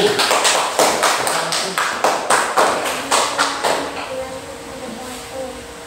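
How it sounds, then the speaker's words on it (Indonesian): A classroom group claps together in a quick, steady rhythm for about four seconds; the claps fade and stop near the end, with faint voices underneath. "Ya, sudah, tepuk tangan kelompok 1."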